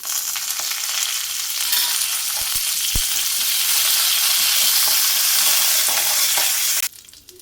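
Dried red chillies fry in hot oil after mustard seeds, giving a loud, steady sizzle that fills the scene, with a few stirring knocks, until it cuts off abruptly near the end.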